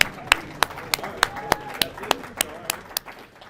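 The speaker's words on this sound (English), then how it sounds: "Round of applause for them." Audience in a club meeting room clapping for new members, a thin, uneven scatter of individual claps at close range, heard under a speaking voice.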